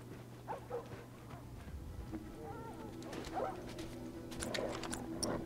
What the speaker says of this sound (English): I don't know if I should walk over to those dogs or not.